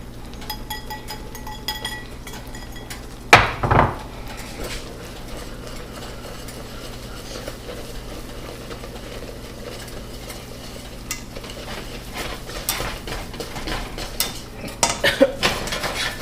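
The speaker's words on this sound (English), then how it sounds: "we're going to grab a metal whisk and go ahead and whisk in the powdered sugar" A metal whisk beats powdered sugar into a cream cheese mixture in a bowl with steady scraping strokes, close by. One loud clank sounds early on, and busier clinks come near the end.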